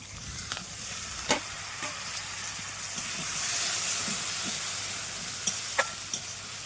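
Chili paste sizzles and hisses steadily in a hot pan as water from rinsing the grinding plate is poured in, with a few sharp clinks of a utensil against the pan over the continuous frying noise.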